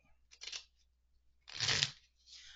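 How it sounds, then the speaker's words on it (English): A deck of cards being shuffled nearby in two quick riffling bursts separated by a short pause, with a softer rustle at the end. "I'm sorry if that shuffling noise is loud."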